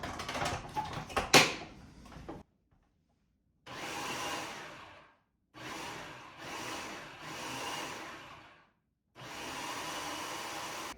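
A blender purees hot peppers for peach hot sauce in loud roaring bursts of about one to two seconds, separated by short silent pauses, after some clattering at the start.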